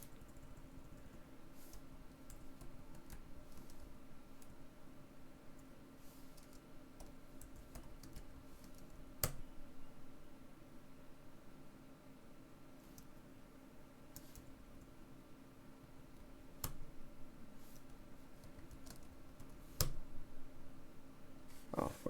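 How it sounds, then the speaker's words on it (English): A computer keyboard is typed on in a dark room, a quiet, steady patter of key taps with occasional sharper louder presses, close and without talk over a faint background hum. "Just trying to type in the dark here, and I usually don't have to look at my keyboard,"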